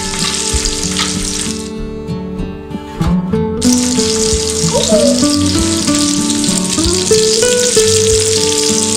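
A large fish frying in a big pan that is barely big enough, Konkan-style in Lanja, Ratnagiri, with a loud continuous sizzle briefly dipping before resuming under background music.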